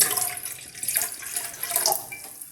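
Thin second-press coconut milk poured into a cooking pot in a Kerala kitchen while making a banana and carrot dish: a close liquid pouring and splashing sound that rises and falls, with no voices.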